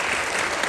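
An audience at a high school wind ensemble's percussion Christmas concert applauds in a brief, dense burst of clapping from a crowd, loud and close.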